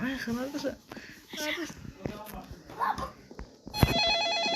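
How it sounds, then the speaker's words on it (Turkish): A telephone rings inside a Roblox game, a steady electronic trill that starts near the end and holds under game sounds and voices talking before it. "Bana telefon çalıyor."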